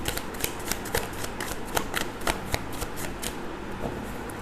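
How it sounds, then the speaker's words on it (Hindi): Tarot cards are shuffled and drawn in quick, crisp riffles and snapping flicks, close and fairly loud, with no talking. "आई नीड 8 कार्ड्स, 8 कार्ड लेंगे हम।"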